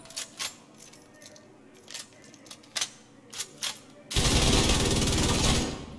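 LMG machine gun fire in The Division 2: a few isolated sharp shots and clicks, then a sudden loud burst of continuous rapid automatic fire lasting about two seconds before cutting off.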